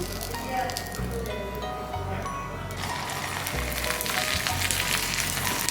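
Sun-free dried vadiyalu made from rice rava and sago, frying in hot oil, giving a steady close crackling sizzle that swells and thins in waves, unbroken across the whole stretch with no talking.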